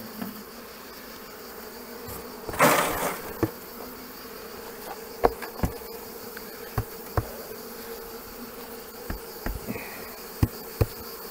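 Honey bees buzz around an opened hive during preparations, a steady low drone broken by sharp close passes and a loud rustling handling noise early on.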